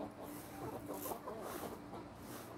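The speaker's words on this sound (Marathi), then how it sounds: "तांदूळ टाकले होते कोंबड्यांना" Chickens cluck softly over scattered rice in a farmyard, a faint, steady stream of low clucking murmurs with no talking.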